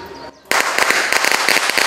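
A compressed-air eco-friendly firecracker cannon at a temple procession lets off a loud burst of rapid crackling bangs after a brief quieter moment, sharp and close, mimicking a traditional string of firecrackers.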